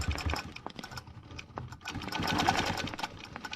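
A sewing machine stitches a stencil background design on fabric, its motor humming in short, uneven runs with a rapid needle patter and brief pauses between bursts.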